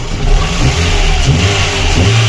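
A VAZ 21099 car engine runs after a cylinder head repair, a loud, steady mid-low drone with a slight rev swell and an even, continuous tone, heard alone without talk.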